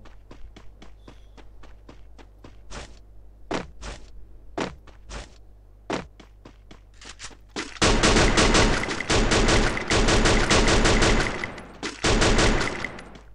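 Gunfire in the battle-royale game Free Fire: a run of separate, sharp single shots spaced irregularly, then dense, loud rapid-fire bursts that continue almost nonstop to the end.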